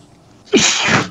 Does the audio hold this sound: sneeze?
yes